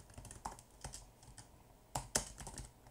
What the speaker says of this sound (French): que j'appuie sur la touche espace